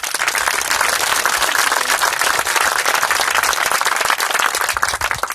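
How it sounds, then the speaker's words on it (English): An audience at the Brooklyn Park library opening in June 2016 claps in dense, sustained applause, loud and even throughout with no voices standing out. "So maybe a round of applause for all the folks who work."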